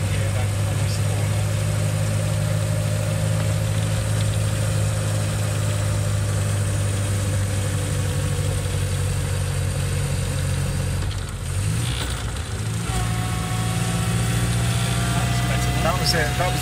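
A car with a crash gearbox hums with a steady engine drone, with a brief dip and blip of revs as it double declutches, close and continuous with people talking over it.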